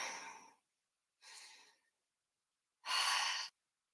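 Three slow, audible breaths during a yoga stretch, each a soft airy exhale or sigh separated by silence, the last one longer and louder.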